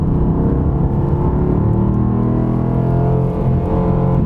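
A Mercedes AMG GT R Pro drives on a wet racetrack, giving a continuous low engine rumble with a steady whirring hum that stays loud and even throughout.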